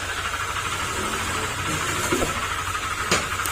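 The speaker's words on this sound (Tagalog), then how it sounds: "At yan yung tunog ng makina." A Honda Click scooter engine at 46,626 km idles with an abnormal knocking rattle, a steady close mechanical rumble with faint ticking pulses and no talking.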